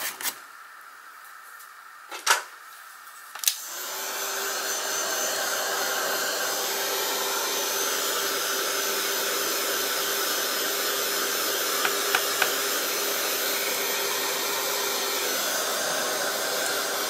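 A heat tool or dryer drying paint on a craft project runs with a steady, loud blowing whir for most of the time, starting after a few brief knocks and clicks.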